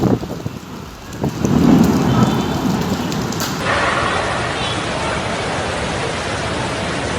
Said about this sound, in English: It is a situation, or a downpour that we have not observed in a long time, said Redondo.